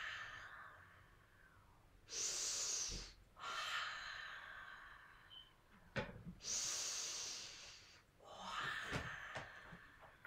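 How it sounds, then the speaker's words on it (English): Lion's breath during a yoga class: a person exhales forcefully through a wide-open mouth, several long breathy huffs and inhales close to the mic, with no talking. "So a little lion's breath, which is just opening the mouth and breathing out."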